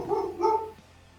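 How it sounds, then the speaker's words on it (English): A dog gives two quick, close barks in a row, loud and alone, then falls quiet. "Dog barks."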